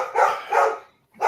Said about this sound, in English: let me take care of the dog again.